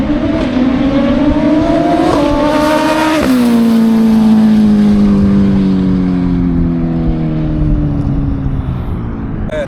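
A Suzuki Hayabusa racing motorcycle launching hard without launch control, its engine roaring loud and close and climbing in pitch through a gear change before pulling away and fading slightly, with no talking.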